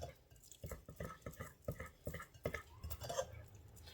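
Stirring and mixing roasted cherry tomato soup ingredients, with soft utensil clinks and scraping in a bowl or pot, in short irregular strokes close by.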